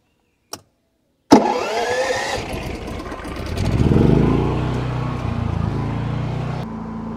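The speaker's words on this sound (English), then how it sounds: "So let's raise this here and see if it kicks the generator on." Backup generator starting as a battery charger calls for power: a single click, then a loud engine catches abruptly, clatters, and rises in revs before settling into a steady, close running drone.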